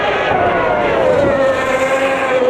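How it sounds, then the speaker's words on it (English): Two McLaren racing cars, driven by Senna and Berger, pass through the S-curves with a loud, steady engine howl whose pitch slides slightly downward as they go by, sustained throughout with no talk. "Here are the two McLarens of Senna and Berger"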